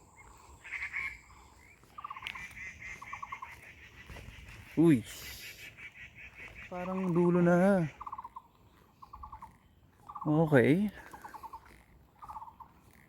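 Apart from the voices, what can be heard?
noisy bird calling at reservoir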